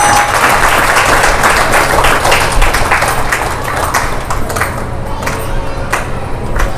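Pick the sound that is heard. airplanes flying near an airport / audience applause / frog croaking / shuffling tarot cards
audience applause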